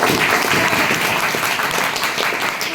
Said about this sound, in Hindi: सम्मान में चाहिए शानदार तालियों से